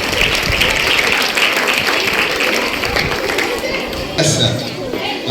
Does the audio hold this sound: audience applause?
yes